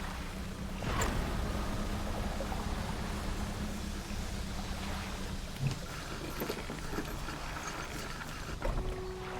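A fishing boat's engine in the video game DREDGE runs as a steady low rumble with watery wash and faint wind, continuous and unbroken at moderate level, with no talk over it.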